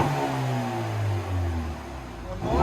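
A 2019 Ford Mustang EcoBoost with a muffler-delete exhaust revs close by, its engine note rising and holding in steady pulls with a faint voice briefly in the background.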